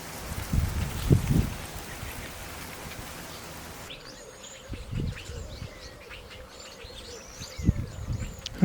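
Mousebirds call from the bushes at a rural spot in Herbertsdale, South Africa, at sunset: thin, high chirps and whistles rise over low rustling and a few soft bumps in the foreground, fairly faint and scattered.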